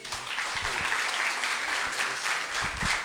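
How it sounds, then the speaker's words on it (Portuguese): Church congregation applauding together during an evening worship service, a dense, steady wash of clapping that fills the room at even loudness throughout. "Vamos aplaudir ao Senhor mais uma vez?"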